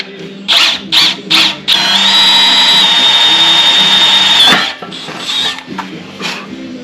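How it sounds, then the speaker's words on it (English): A power drill whirs in a few short bursts into a cracked metal heat shield on a Kawasaki FX850V mower engine, then runs steadily with a high whine for a few seconds before tapering into brief spurts. "basically I'm drilling a hole at the end of the crack"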